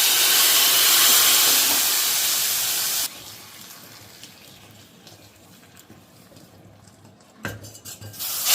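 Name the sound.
tempering (chhaunk) sizzling added to kadhi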